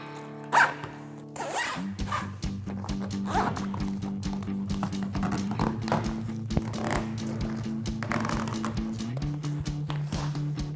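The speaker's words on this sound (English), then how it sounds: "Get our lower zipper on." A zipper on the lower side of an inflatable truck bed camper topper on a Ford F-150 is pulled along with a steady rasping run, close by, alongside a low droning hum and some faint background noise.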